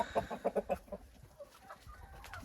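Hens clucking in an unheated henhouse with a rooster among them, a quick run of close, rhythmic clucks at the start that thins into softer scattered calls and faint rustling.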